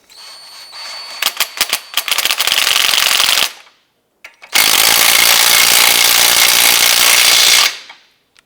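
An impact or power tool snugs and torques the ball joint pinch bolt on a 2005-2009 Subaru Outback lower control arm, giving rapid bursts of rattling hammering, then a short pause and a long, steady, loud run, close up.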